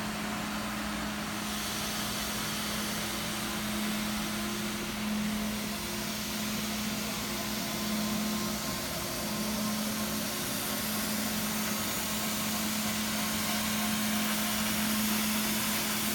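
A Minute Man E20 floor scrubber runs steadily with its scrub brush and squeegee down, a constant motor and vacuum drone with a low hum, unbroken throughout and with no talking.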